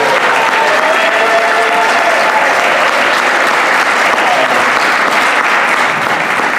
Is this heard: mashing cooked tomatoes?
no